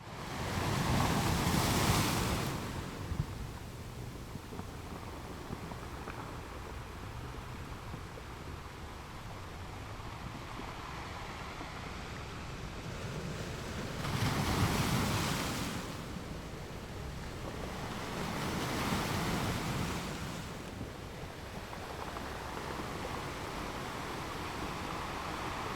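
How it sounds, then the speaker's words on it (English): Rough sea on the coast at Biarritz, France: a steady wash of surf and wind with three louder breaking waves swelling and crashing, the first near the start and two more later on. "The sea is very rough here"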